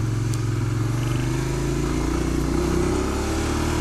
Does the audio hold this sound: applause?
no